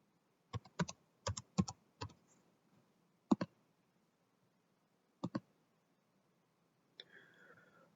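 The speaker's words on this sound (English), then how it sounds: "type in your username. And your password." Keys clatter on a computer keyboard as a username and password are typed in quick clustered bursts, separated by short silences, with a faint different sound at the very end.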